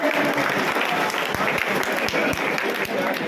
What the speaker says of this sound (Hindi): जोरदार तालियां इस परिवार के लिए